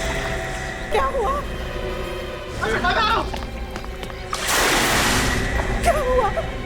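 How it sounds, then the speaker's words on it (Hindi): Someone falls into water with a loud, broad splash midway through a jungle drama scene, among excited voices and rustling movement before and after. "ये तो किसी के पानी में गिरने की आवाज है"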